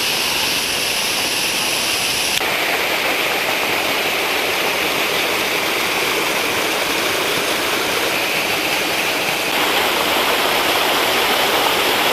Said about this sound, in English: we got into the waterfall